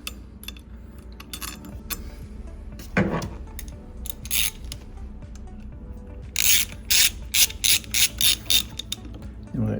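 Ratchet wrench tightening the retaining bolts on an Ampco ZP1 series pump during a double O-ring seal change, giving short bursts of metallic clicking in quick strokes, louder toward the end, close by.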